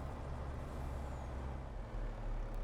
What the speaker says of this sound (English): we'll drop the truck off over here